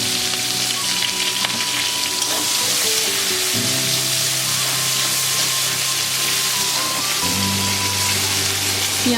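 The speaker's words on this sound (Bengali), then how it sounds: "এবার কড়াইতে ওই তেলের মধ্যে পেঁয়াজগুলো আগে ভেজে নেব।" Onions fry in hot oil in a wok, giving a dense, steady sizzle and crackle that fills the scene close up, with faint tonal hum underneath and no talking.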